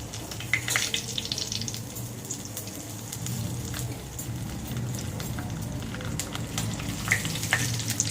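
Dried red chillies and bay leaves frying in hot oil in a pan, a steady close sizzle and crackle with occasional sharper pops, continuous throughout.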